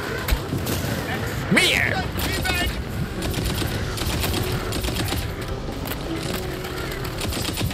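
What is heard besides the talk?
gunfire, video game Tiny Tina's Wonderlands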